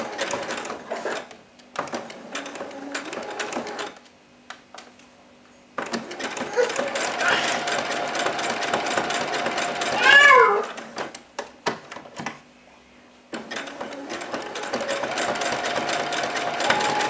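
A sewing machine stitching fabric for a Christmas stocking, running in several steady bursts of rapid mechanical chatter separated by short silences, close and clear, with a brief higher squeak partway through.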